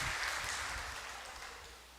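Church congregation applauding during a Sunday evening service, a soft, distant, steady wash of clapping that slowly fades over two seconds.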